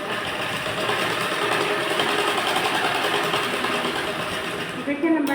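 A sewing machine stitches a blouse with a steady, close, rapid whirring hum that runs without a break and stops abruptly near the end, with a voice talking quietly beneath it.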